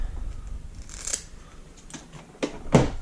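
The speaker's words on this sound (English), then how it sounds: "Use junk scissors or really thick scissors or your cheapos for that, because it's thick stuff." Scissors snipping through thick chocolate-colored body tubing at a fly-tying bench, a few crisp close cuts with the loudest, heaviest snip near the end, no talk.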